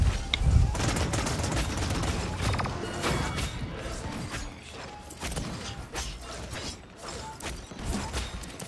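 Gunfire in the hero shooter Paladins, a dense run of rapid shots and mechanical clatter with occasional crashes, steady and close throughout the game mix with no talk.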